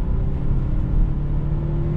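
Volvo XC60 T8 Polestar hybrid SUV picking up speed from a rolling start, a steady close engine-and-road drone with a low hum and faint tonal whine, constant and loud throughout.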